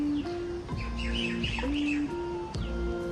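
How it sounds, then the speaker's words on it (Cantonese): Birds chirping outside a ground-floor flat overlooking trees and a garden, with bright, repeated tweets and calls at moderate distance over a low steady background hum. "聽到雀仔聲㗎啦"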